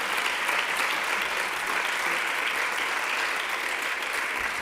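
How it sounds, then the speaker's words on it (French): Sustained applause fills a parliamentary hemicycle after a session on gender inequality and addiction, many hands clapping in a dense, even roar at steady volume for nearly five seconds, with no speech over it. "Je pense qu'on peut les applaudir."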